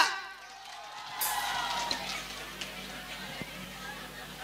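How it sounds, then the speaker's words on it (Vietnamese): A school crowd applauds and cheers at a Mộc Hạ High School evening event in 2022. It starts abruptly after a brief quiet moment and becomes a broad, sustained roar with scattered whoops, heard at moderate distance. "xin một tràng pháo tay ạ"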